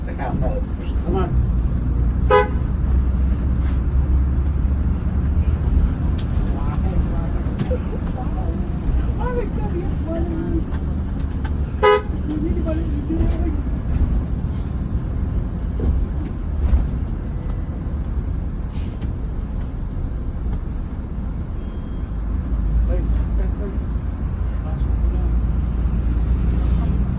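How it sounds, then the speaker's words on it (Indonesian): Loud, steady engine rumble and traffic noise at Mengwi bus terminal in Bali, with buses idling and moving nearby and brief horn-like tones, while people talk throughout. "Kita lagi parkir di terminal Mengwi tapi bagian depan."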